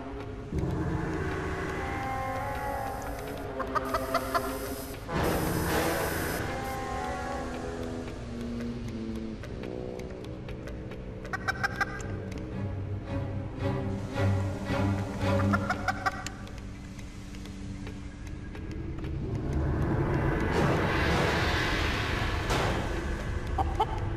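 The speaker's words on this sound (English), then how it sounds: "Brian, these chickens are dangerous." Chickens cluck in a space-themed video game, a steady run of fowl calls layered over constant game music and effects, loud and close throughout with no talk.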